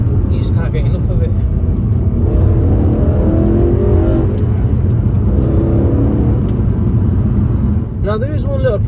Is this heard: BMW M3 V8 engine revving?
yes